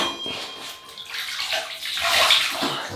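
Water splashed and cupped onto a face to wet it before a shave with a Merkur Futur razor, a close, loud run of sloshing and dripping with tap-like rushes and no talking.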